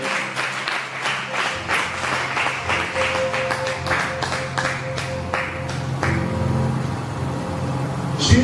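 A church congregation claps to acclaim the Lord during a sermon, a sustained loud round of many hands that builds and carries on for several seconds, with a faint low rumble underneath.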